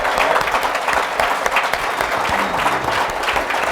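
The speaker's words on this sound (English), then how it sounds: "How about a nice round of applause?" A conference audience at a hotel during a 2015 intranet industry event gives sustained, full applause to a panel of speakers. Dense, even clapping continues loudly without a break for nearly four seconds.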